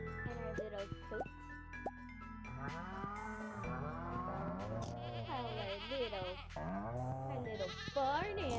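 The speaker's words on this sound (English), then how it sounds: "And our little goats." Goats bleating among farm animals in the video game Stardew Valley, soft cartoonish animal calls mixed with moos and background game music while a person talks over them throughout.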